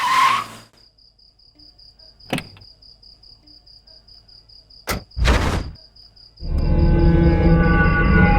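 Car braking hard and skidding to a stop at night, a short screech followed by door thuds and a running engine, with a steady insect chirp in the background.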